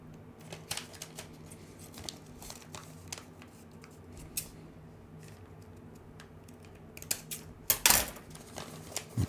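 Scissors snipping paper while shaping the elevators of a paper airplane, a run of quiet, sharp clicks and cuts with one louder crisp snip near the end.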